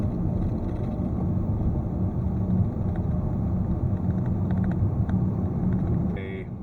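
Range Rover L405 driving with a steady, loud road and wheel noise rumbling throughout, a continuous broadband drone with no break until the very end.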